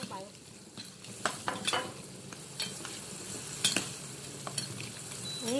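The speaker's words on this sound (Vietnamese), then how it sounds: "Mình trộn tôm như thế này nha các bạn." Shrimp with garlic and chili being tossed and stirred in a hot pan, soft scraping and clinks over a faint sizzle, fairly quiet and close.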